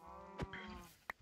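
A single low cow moo drones quietly in Minecraft, with a couple of short clicks.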